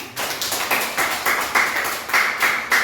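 Students in an Indonesian classroom clap together after a lesson on Pancasila, a series of short, fairly uniform bursts of clapping in a steady rhythm, close and moderately loud, with no talking.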